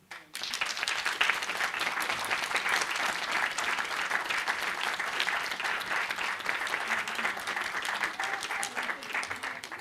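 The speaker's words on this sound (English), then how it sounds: "could we applaud Professor Suzy" Audience applauding a newly inaugurated professor at a university ceremony, steady sustained clapping from a large crowd filling the hall, even and continuous from start to finish.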